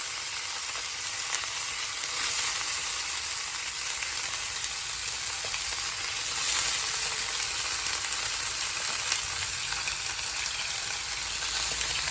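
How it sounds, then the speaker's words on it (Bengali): An egg fries in hot oil in a home kitchen pan, giving a steady, even sizzle that holds at close range for the whole stretch with no voices. "তেলের মধ্যেই আবার তেল দিয়ে ডিমটা ভেজে নেবো"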